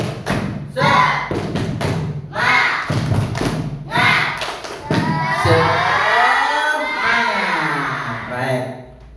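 A classroom of children does a rhythmic spirit clap, bursts of unison claps and thuds in quick patterns alongside shouted chanting, followed by a sustained swell of excited kids' voices.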